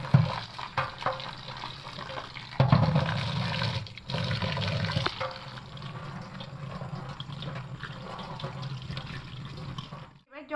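Cold tap water runs steadily over boiled pasta being rinsed in a home kitchen, with a continuous splashing rush and occasional clatter, ending abruptly as the flow stops.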